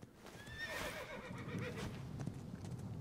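A horse in the video game Assassin's Creed Origins gives a loud, wavering whinny, followed by hoof clops and snorting breaths, with no talk.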